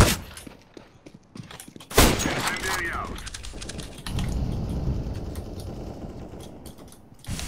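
Gunfire in a competitive CS:GO match: a sharp, loud shot bursts out near the start, then clicking and mechanical weapon handling noises. Game sounds run steadily beneath, and players talk over much of it.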